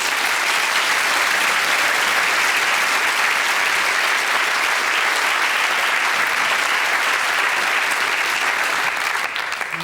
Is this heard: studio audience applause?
yes